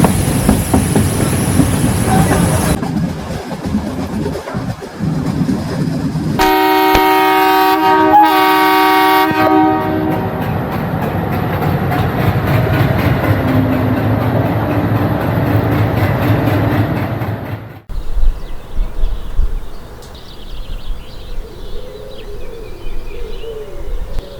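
A passenger train's horn blares in a long held toot amid loud rumbling rail noise on the Shoranur–Palakkad line in Kerala, the roar continuing before cutting to quieter ambience.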